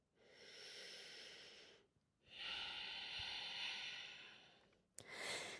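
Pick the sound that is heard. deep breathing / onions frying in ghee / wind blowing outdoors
deep breathing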